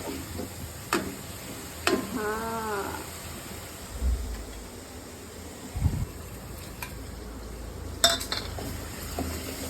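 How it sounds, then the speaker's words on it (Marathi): Curry masala with coriander and turmeric powder fries in a pan for chicken fry, giving a steady low sizzle with a few scattered scrapes and clinks of a spoon against the pan, fairly close and moderately quiet. "त्याच्यामध्ये धनिया आणि हळदी पावडर टाकला आहे मी, आणि थोडं नमक टाकून मी त्याला छान फ्राय करत आहे."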